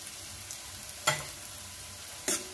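Ginger garlic paste sizzles with onions in a hot pan for masala sundal, a steady frying hiss punctuated by two sharp clinks of a spoon stirring against the pan.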